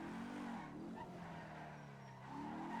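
A car in the GTA V NoPixel roleplay game drives and skids, giving a steady engine drone with a drawn-out tire squeal that sweeps in pitch, fairly quiet and with no talking over it.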